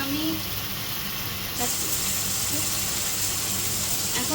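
Fish sautés in a pan with cumin, green chillies and tomato for a Bengali fish curry. A steady, close, hissing sizzle holds throughout, with a brief splash partway through.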